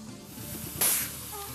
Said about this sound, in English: modified the tool to pump air into the strut so the fluid can flow out